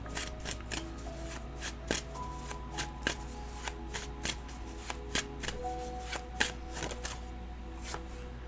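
Tarot cards are shuffled and drawn in a steady run of crisp riffles and soft slaps, close and quiet, with no talking.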